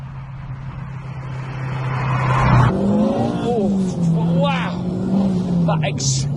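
A 380bhp turbocharged Honda Civic Type R EP3 accelerating hard, engine note climbing through a gear change with a brief dip and renewed rise, heard from inside the car with someone talking over it.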